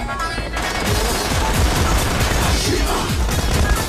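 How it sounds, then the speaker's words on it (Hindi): Dense machine-gun and rifle fire in a PUBG Lite match, an MK-14 among the weapons, with rapid overlapping shots rattling loud and close throughout and a voice talking faintly underneath. "अरे भाई ये खोपड़ी खाने वाली गन कौन चला रहा है?"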